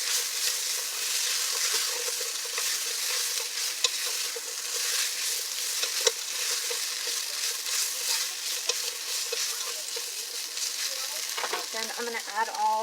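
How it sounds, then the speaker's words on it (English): Bacon and mushrooms fry and sizzle in a pot for a keto-friendly beef stew, a steady close crackle broken by the scrape and clatter of stirring near the end. "So now I'm going to add my bacon back in."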